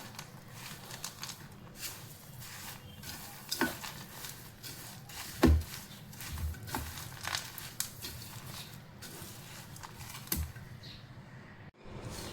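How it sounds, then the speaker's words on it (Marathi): Dates are stirred into a protein laddoo mixture in a pan, giving quiet, steady scraping and creaking with occasional sharper knocks of the spoon against the pan. "तर इकडे खजूर मिक्स करून घेऊया।"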